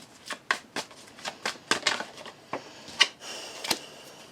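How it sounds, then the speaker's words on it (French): Oracle cards being shuffled and drawn by hand during a card reading, a series of crisp, separate flicks and slaps at an irregular pace, close and fairly clear, with no talking. "On va tirer 3 cartes, s'il vous plaît"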